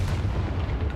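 A Confringo fire spell bursts in Hogwarts Legacy, a short, booming explosive blast with a rough, rumbling low tail.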